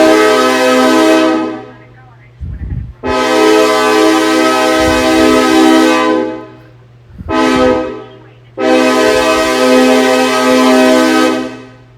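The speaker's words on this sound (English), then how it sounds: "let me go ahead and give you some more blasts" Four long, loud train horn blasts, each a sustained multi-tone chord with a steady low hum beneath, separated by short gaps with some rumbling noise between them.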